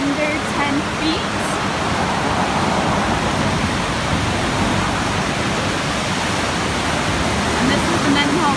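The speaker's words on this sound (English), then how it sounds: "this is the Mendenhall River at the Back Loop Bridge" The Mendenhall River in flood at the Back Loop Bridge in Juneau, Alaska, a loud continuous broadband rush of fast water, steady and close throughout with no breaks.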